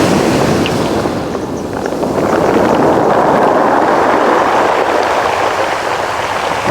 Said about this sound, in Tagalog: Pinabot tayo ng lakas ng alon.